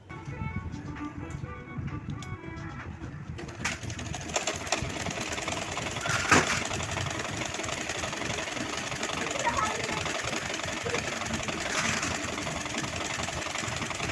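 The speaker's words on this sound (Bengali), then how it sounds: "এখন আমি এটার উপর করে ডাবল সেলাই দিব।" A sewing machine double-stitches a fabric strip made for a drawstring, humming in a steady mechanical whir that starts a few seconds in and continues close and loud to the end, with faint voices under it at the start.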